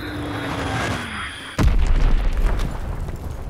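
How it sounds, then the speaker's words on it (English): A heavy bomb blast in Call of Duty WW2 hardcore team deathmatch on snowy winter Carentan, a sudden loud boom that cuts through the battle noise and leaves a long rumbling roar. "Enemy bomb incoming!"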